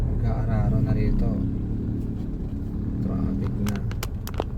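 Road traffic on a narrow alternative route toward Manggahan, General Trias: a constant low engine rumble from passing vehicles, close and steady, with a voice talking over it early on and a few sharp clicks near the end.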